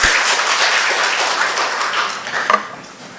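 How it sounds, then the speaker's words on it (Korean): A church congregation applauds during a Sunday service, a full round of crowd clapping that rings in the room and fades out near the end. "우리 박수 한번 우리 수고하셨습니다."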